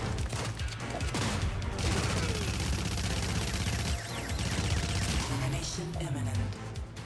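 Gunfire and grenade shots in the side-scrolling game Terminator 2D: No Fate crackle as a dense, continuous fusillade over about seven seconds, with game music and a voice talking over it.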